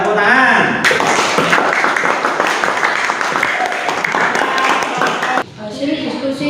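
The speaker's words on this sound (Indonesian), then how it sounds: "ya, tepuk tangan" Classroom applause after a group presentation, a burst of students clapping loudly for several seconds amid chatter, then cutting off abruptly into quieter talk.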